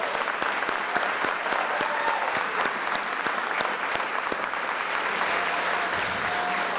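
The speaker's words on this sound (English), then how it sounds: "So let's give everyone a round of applause" At a Kiwanis Club Terrific Kids recognition program, an audience applauds the children with full, steady clapping from many people, a few sharper individual claps standing out in a loose rhythm throughout.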